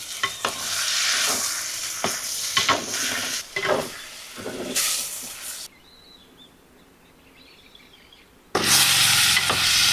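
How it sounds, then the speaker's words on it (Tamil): Tomato and potato are stirred in hot oil for an eggplant and potato curry. Close, scraping stir strokes sound over a steady sizzle, which drops to a quieter hiss midway before loud frying and stirring return. "நாங்கள் எல்லாத்தையும் நல்லா கிளறி விடுவோம்."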